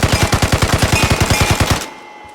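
A Thompson submachine gun fires in the video game Vigor, one loud, fast, even burst of about twenty shots that stops abruptly and leaves a short quiet tail.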